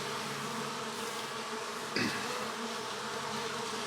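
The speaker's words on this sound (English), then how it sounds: "There's a lot of bees in these hives, even though it doesn't look like there's a lot of bees, because they're all out flying and doing their thing." Honeybees buzz steadily around their hives, a dense continuous drone close by with a brief louder swell as one passes near.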